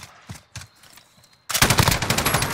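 Automatic gunfire in Call of Duty: Modern Warfare erupts loud and rapid in the second half, a fast burst after a few scattered distant shots and quieter moments.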